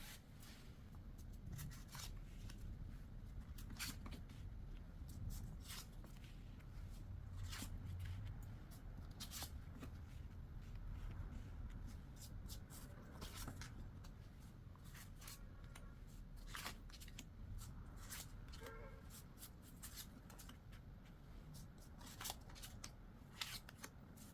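Tarot cards are shuffled and picked over and over, a long run of crisp slaps, riffles and snaps in an uneven rhythm, close and quiet with soft low background noise beneath.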